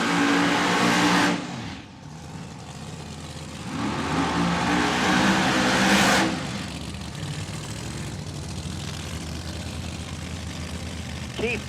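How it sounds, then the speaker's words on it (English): Supercharged Hemi nitro funny car engines at a drag race final round, one featuring a Mustang body, roaring and revving loudly in surging waves, the blasts rising and falling twice before settling into a sustained rumble. "As if on cue, the supercharged Hemis come to life."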